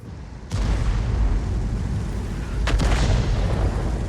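A tank shell striking the gun mantlet in a tank video game, heard as a heavy, sharp impact followed by a second burst of clanging blasts over a constant low rumble of engine and battle noise.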